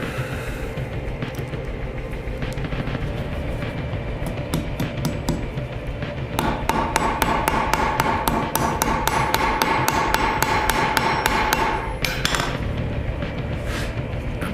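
A hammer strikes a rivet and washer on the metal finger scales of a gauntlet in a fast, steady run of close, sharp metallic taps that continues throughout, with no voice.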